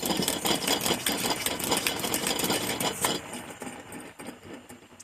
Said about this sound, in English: I'm going to give it a few more pumps.